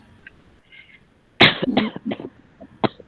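A sudden loud cough bursts out after near silence, followed by a few smaller coughing sounds and a short sharp one at the end.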